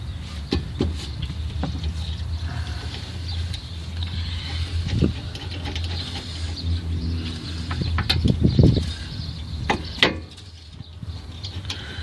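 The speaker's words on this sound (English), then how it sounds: "Put the bolts back in where they came from." Bolts are put back into a truck, with metallic clinks, ratcheting and scraping that come and go over a steady background hum. The fitting noises sound close.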